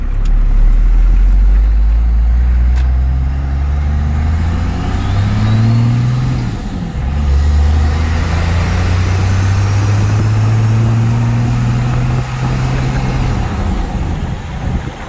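A first-generation Cummins pickup truck with front air suspension drones steadily while driving on a road, with gear shifts and revving swells over continuous road rumble.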